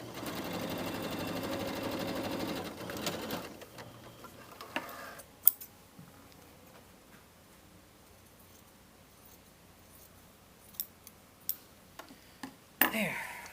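A domestic sewing machine stitches the hem of a jacket and joins the lining, a soft rapid whir for a few seconds before stopping, followed by quiet handling clicks and light taps nearby.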